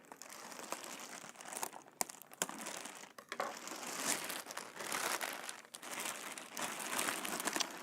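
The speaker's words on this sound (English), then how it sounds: "So I'm going to cut some of the tape." Continuous close crinkling and scratchy crunching as tape is cut and torn on the cardboard shipping box of a Wanhao Duplicator i3 Plus 3D printer, with a few sharp snaps and no talking.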